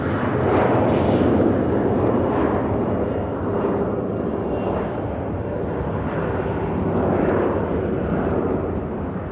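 A fixed-wing airplane at Nashville International Airport gives off a loud, sustained jet-engine roar that holds steady for several seconds and swells slightly, with no talking.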